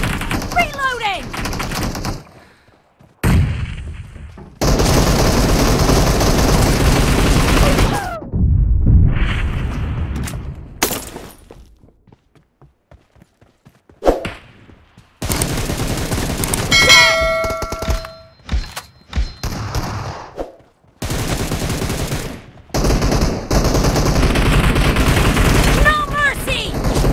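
M762 rifle in PUBG Mobile fires in rapid automatic bursts broken by short silences, with loud game announcements and other game sounds mixed in.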